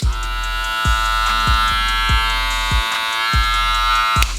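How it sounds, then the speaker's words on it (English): A Stylecraft Rebel cordless hair clipper with a super torque motor runs steadily with a bright, high-pitched electric buzz, close and alone, broken by regular soft clicks or knocks roughly every half second. "So I'm gonna turn it on for y'all so y'all can just hear the motor."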